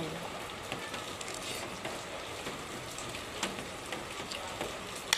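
Heavy rain pours down on a cold day, a steady, fairly faint hiss of falling water with scattered drop patters throughout.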